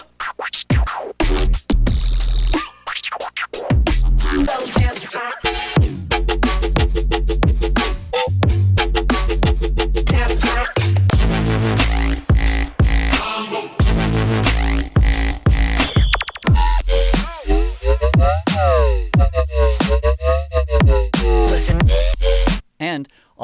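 Heavy glitch hop track pounding continuously: loud booming bass, choppy stuttering beats and glitchy synth bursts, dense and full throughout with no talking.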